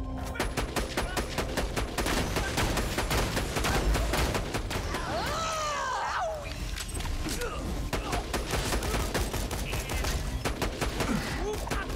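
Rapid rifle gunfire in Borderlands 2 crackles almost nonstop in dense, loud bursts, mixed with in-game effects and a brief whooshing swirl midway, while a voice talks over the shooting.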